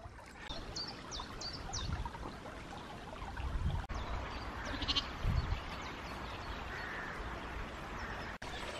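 Sheep bleat in short, wavering calls across a countryside field during a woodland foraging walk, a cluster of bleats early and more a few seconds later, set against steady running water and breezy outdoor ambience.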